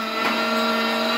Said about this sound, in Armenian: Գիտեմ, որ ձեզ շատ հաճել է այս միքսերի ձայնը, դրա համար եկեք անջատեմ։